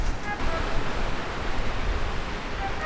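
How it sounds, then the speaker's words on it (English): Steady wind roars across an open microphone, a dense, continuous rush of noise with no pauses. "Too windy for me."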